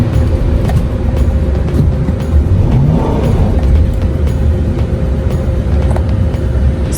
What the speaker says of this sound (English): I'm just gonna press on the gas